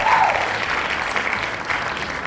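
A group applauding during a Portuguese-language tech talk on cloud computing and infrastructure, a short burst of steady, dense clapping heard fairly close, with no voices over it.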